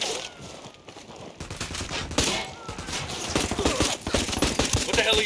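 Bursts of machine gun fire crackle through a firefight in the video game Ghost Recon Wildlands. Dense, rapid volleys grow louder and build into sustained fusillades toward the end.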